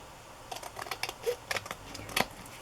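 Scissors trimming the edges of white cardstock for a book reader's journal, a handful of short, soft, close snips and paper rustles in an uneven rhythm.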